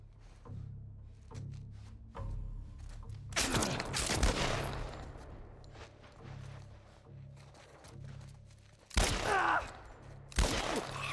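Gunfire in The Last of Us during a fight with Robert's men, with several sharp shots and bursts, the loudest clustered in the middle and two more hard reports near the end over a low background hum.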